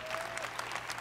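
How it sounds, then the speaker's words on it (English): Scattered clapping from a small crowd at a press conference, quiet and brief, heard at a distance. "Let's give them all a round of applause"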